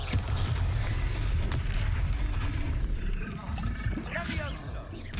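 A Confringo blasting spell exploding in the video game Hogwarts Legacy, a loud rumbling boom with a rushing, crackling tail, mixed with game effects and a voice speaking.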